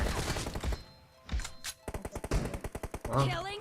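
Rapid bursts of gunfire from PUBG Mobile crack out in a regular rhythm over the last half, with a few isolated shots and thuds earlier, while someone talks over the game.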